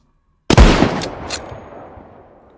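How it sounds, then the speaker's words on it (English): A designed British Army Lee Enfield rifle shot: a single sharp, loud crack after a moment of silence, followed by a long rolling echo tail that fades out over two seconds. "I'll start with showing you how I made my British Army Lee Enfield rifle."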